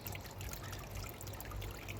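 Water trickles over rocks from a solar-powered pond filter pump, a faint, steady gurgling dribble outdoors with low background rumble.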